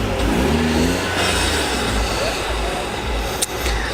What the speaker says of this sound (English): that's just how the ORC clutches sound, the twin plates